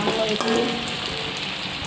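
Loud, steady sizzle and crackle from a pan of roasting spices as a small splash of water hits the hot surface, the burst fading slightly into continuous frying hiss, no one talking.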